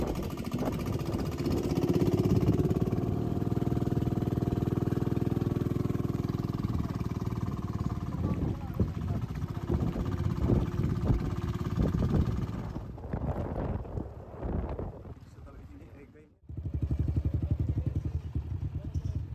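A motorcycle ride in Abra toward Barangay Malapaaw: a droning engine with wind buffeting and rattling over rough ground, fading briefly near the end before the engine noise returns.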